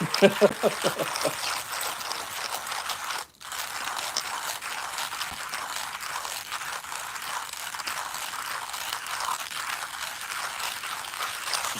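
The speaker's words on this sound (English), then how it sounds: "It's hard work to hand grind your espresso beans" A manual hand grinder crunching espresso beans, giving a steady rasping, ratcheting grind close up after a few initial clicks, with a brief pause midway before the grinding resumes.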